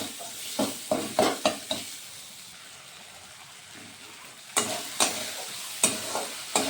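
Spices sautéing in oil in a pan for Bengali tel koi fish curry: bursts of sharp spatula scrapes over a faint sizzle, a quieter stretch in the middle, then more brisk stirring strokes.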